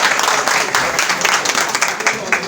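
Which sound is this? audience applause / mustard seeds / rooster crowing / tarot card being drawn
audience applause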